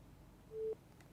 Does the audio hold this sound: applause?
no